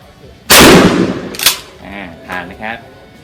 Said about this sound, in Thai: ยิงง่ายยิงสนุกนะครับปืนลูกซอง